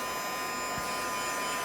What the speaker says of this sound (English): And then just move your heat tool.